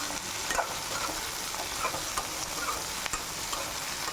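Country brinjal sautés in oil in a pan, a continuous close sizzle with light stirring scrapes running throughout.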